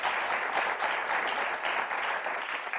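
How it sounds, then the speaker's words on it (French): A studio game-show audience applauds, a dense, even burst of clapping that holds steady for a few seconds, close and fairly loud. "Vous pouvez applaudir."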